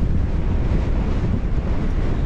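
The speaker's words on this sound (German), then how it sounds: "innerhalb von ein paar Sekunden sind wir stehen geblieben, weil der Gegenwind so stark ist" Strong headwind buffets cyclists on a bike tour through Albania, a loud, low roaring rumble of gusts battering the microphone without pause, with no speech.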